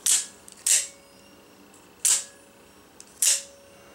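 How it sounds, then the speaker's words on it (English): Microtech Combat Troodon out-the-front knife firing open and closed four times in sharp, crisp snaps with a faint metallic spring ring after each, close up in a quiet room. "When I open and close the knife, you hear a bit of that spring twang"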